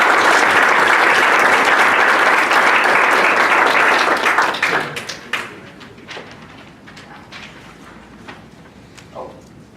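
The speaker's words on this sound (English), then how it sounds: "if we could all give these folks a round of applause." Loud applause from an audience at a township Board of Supervisors meeting, dense clapping for about four seconds that quickly tapers into scattered individual claps and quiet room noise.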